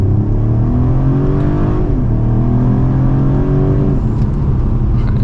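A 2024 Mercedes-Benz CLE450 coupe accelerates hard from second gear, its engine drone climbing steadily in pitch with audible upshifts, heard loud and close from inside the cabin.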